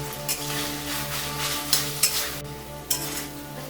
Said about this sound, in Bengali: টমেটো দেওয়ার পরে আমরা নুনটা দিয়ে দেবো, যাতে টমেটোটা ভালো করে ভাজা হয়ে যায়।